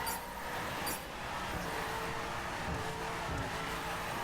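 Ferrari 458 Speciale engine in The Crew video game, revving and holding steady near the rev limit around 7,000 RPM during a drift, a continuous loud drone with no talk over it.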